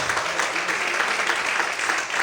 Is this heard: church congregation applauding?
yes